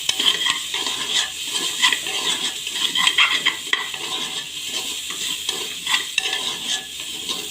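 Dal frying with a pinch of turmeric in a pan, a continuous crackling sizzle broken by repeated stirring scrapes and light clinks of a spoon against the pan, close and fairly loud.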